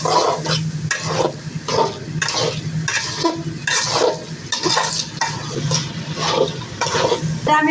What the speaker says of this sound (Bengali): এই যে চালটা আবার সুন্দর করে আমি ভাজে নিছি